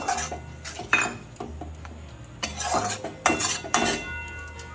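A spoon stirs a spice and tomato paste frying in a pan for Bengali dum aloo, making irregular metallic clinks and scrapes against the pan that come close and in bursts, with no talking.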